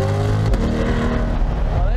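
A 2020 Chevrolet C8 Corvette convertible rumbles while driving, a loud, steady low exhaust drone with a brief throttle change midway, heard under close conversation.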